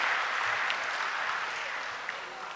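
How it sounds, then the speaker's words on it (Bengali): Audience applause at an IT career camp event, welcoming panelists as they take the stage; a steady wash of clapping that holds evenly for a few seconds, with no voices over it. "সবাই তার আপনার হাততালি দিয়ে তাদের অভিনন্দন জানান।"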